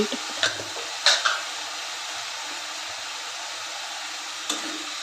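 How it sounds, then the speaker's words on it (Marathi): Chickpea leaf vegetable dish is mixed in a pan after salt goes in, with a few sharp utensil knocks and scrapes near the start and one more near the end over a steady faint sizzle. "मीठ घालून मिक्स करून घेते."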